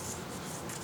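Paper folded and pressed for an origami sofa, a steady close rubbing and crinkling that lasts under a second with no talking.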